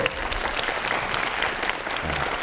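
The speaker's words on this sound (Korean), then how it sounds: "박수 한번 쳐주세요." An audience of university students claps at a lecture, with brisk, dense applause at moderate level filling the short stretch and staying steady throughout.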